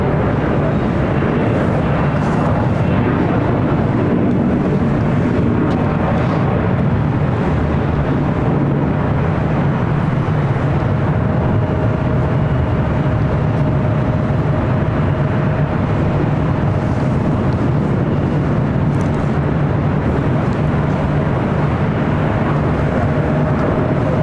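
A United Airlines Boeing 787-9 Dreamliner arriving at LAX from Hong Kong makes a loud, sustained jet roar that fills the air evenly, broad and steady with a faint tonal whine running underneath.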